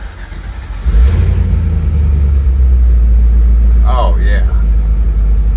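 Fuel-injected 1963 Chevrolet C-10 engine starting up and running with a loud, deep rumble close by, holding steady with slight revs, while someone speaks briefly over it.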